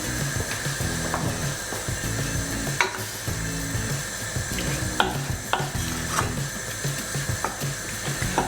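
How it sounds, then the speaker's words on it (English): Ground beef browning in a frying pan for a Mexican beef casserole, a steady close sizzle and crackle with repeated scraping and stirring clatters of a utensil against the pan, no talking. "What you're doing is just browning it off to give it a nice colour."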